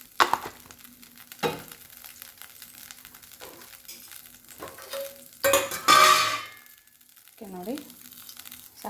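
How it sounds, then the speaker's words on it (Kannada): Oil heats in a hot pan for tempering, giving a steady soft sizzle with stirring scrapes and rustles and a louder frying flare near the middle, while a voice talks over it. "ಪಾತ್ರೆ ಬಿಸಿ ಆದ್ಮೇಲೆ ನೋಡಿ ಸ್ವಲ್ಪ ಎಣ್ಣೆ,"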